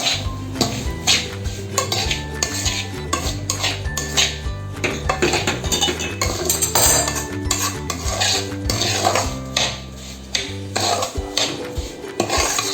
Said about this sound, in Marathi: सर्व मिश्रण आपल्याला हळूहळू ढवळत राहायचं आहे